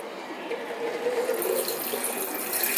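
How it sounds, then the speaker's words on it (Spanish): Water pours from a watering can onto a freshly transplanted aloe vera plant in its pot, a soft, steady stream that grows a little louder and splashier as it goes on, with nobody speaking. "ahora cogeremos la regadera y la regaremos. Le aplicaremos un buen riego."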